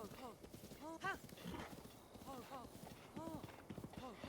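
In the Breath of the Wild video game, a horse whinnies and clip-clops nearby in a quiet, steady rhythm, with a voice talking over it.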